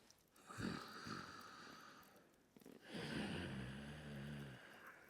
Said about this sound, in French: respiration Ujjayi, un filet d'air qui passe par l'arrière de la gorge au ras de la glotte